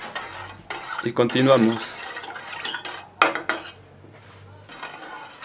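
Coffee custard mixture stirred in a pot, with close, irregular bursts of a utensil scraping and clinking against the metal, and a brief spoken phrase.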